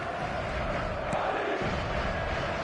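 Football stadium crowd in a video game, a dense continuous roar of many voices that holds steady and fairly loud throughout, with no commentary over it.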